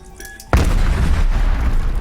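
A sudden loud grenade blast in the video game Call of Duty: Black Ops Cold War Zombies erupts after a faint electronic tone, followed by a sustained rumbling roar that fills the rest of the clip.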